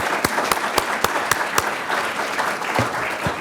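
A conference audience at a user conference applauds a presenter, dense steady clapping with a few sharp, close individual claps standing out, sustained through the whole stretch.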